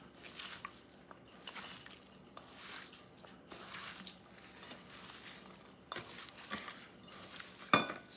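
A spoon stirring and mashing potato paratha filling with cilantro in a bowl, giving soft, irregular scraping and squishing strokes with occasional light clinks against the dish, fairly faint and close with no talking.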